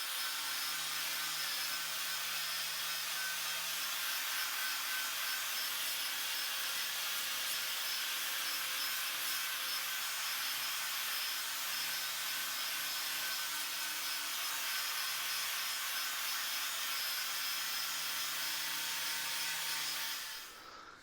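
Abrasive grinding and rubbing on 3/8 inch steel plate being cleaned up for welding D-rings onto a tractor bucket, a steady broadband rasp lasting about twenty seconds before stopping abruptly, with no talking.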